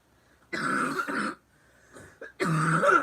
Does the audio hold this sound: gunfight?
no